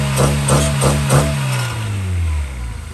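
A freshly rebuilt car engine, just started, runs nearby with a few rhythmic revs that settle into a steady idle, while excited voices are heard over it.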